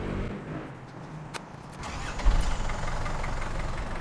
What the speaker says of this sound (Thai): เดี๋ยวผมสตาร์ทเครื่องให้ดูนะ